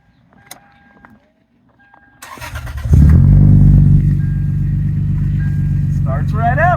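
Lexus IS300 engine cranks briefly, catches and settles into a loud, steady idle close by, with a voice speaking over the running engine near the end.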